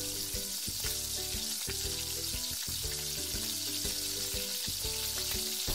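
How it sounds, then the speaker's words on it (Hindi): Chicken spring rolls deep frying in hot oil make a continuous close sizzle and bubbling crackle, joined by intermittent stirring clinks and scrapes, with no one talking. "हम इसे डालेंगे डायरेक्ट गरम तेल में। ध्यान रहे कि हमें हमारे स्प्रिंग रोल्स को डूबे हुए तेल में फ्राई करना है"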